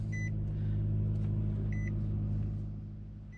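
Nissan car engine idling just after starting, a steady low rumble with two short electronic chimes from the car, fading slightly toward the end.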